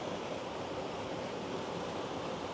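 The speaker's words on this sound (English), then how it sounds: "this is splashing down into this pool" Water from an East Tennessee river splashes down into a pool in a steady, loud, unbroken rush of white noise, heard close and alone with no voices.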